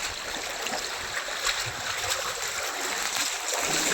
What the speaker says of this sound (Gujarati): બહુ પાણી આવે છે